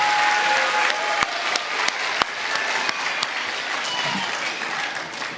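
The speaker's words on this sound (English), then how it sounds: "that deserves a round of applause. We can applaud that." Audience at a school end-of-year awards day applauds steadily, a dense wash of many hands clapping close by, with a few sharper individual claps standing out and faint talk underneath.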